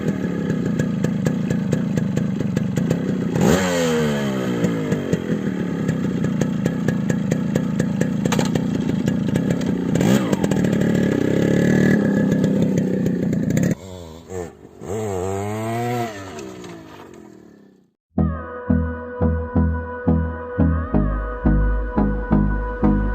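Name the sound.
modified Yamaha RX135 motorcycle engine started and running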